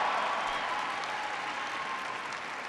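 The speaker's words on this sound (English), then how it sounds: "President Costra, give him a big round of applause." An audience at a presidential speech at Boise State applauding, a dense, continuous roar of clapping from a large crowd that stays steady and fairly loud throughout.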